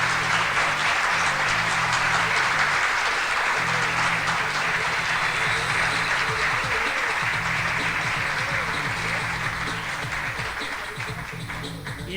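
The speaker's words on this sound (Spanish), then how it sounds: "este aplauso es para ellos" Applause for the Hueso Racing team at a live car show, a loud, sustained crowd clapping with cheering and a low rumbling murmur underneath, continuing steadily and easing toward the end.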